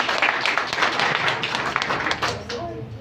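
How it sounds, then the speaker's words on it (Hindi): An audience applauds someone speaker at a women's empowerment closing ceremony, with steady, moderately loud clapping that tapers off toward the end while a voice begins. "मैम के लिए भरपूर तालियां हो जाएं"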